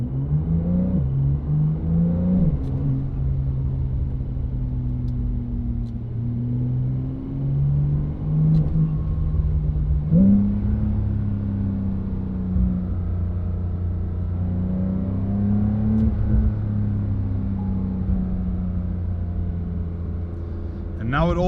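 Cabin view of a Brabus-tuned Porsche 911 Turbo S, rated 820 hp, while driving: a steady low engine drone with rising and falling pitch as it gently accelerates and eases off, continuous and close.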